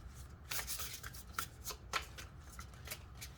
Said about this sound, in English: this is a hilariously awkward shuffle